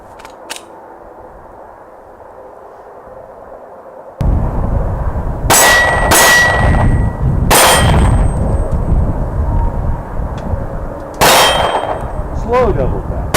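A compensated, ported Glock 19C pistol fires a handful of sharp shots outdoors, spaced irregularly with a quick pair among them, each followed by a ringing metallic clang of steel targets over a low background rumble.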